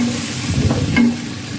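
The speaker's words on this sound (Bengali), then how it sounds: "এখন এই যে আমড়াটা, টমেটোটা হালকা একটু কষিয়ে নিব" Hog plum (amra) pieces and tomato sauté in a pan with a loud, continuous sizzle, broken by brief stirring scrapes near the middle, heard up close and without speech.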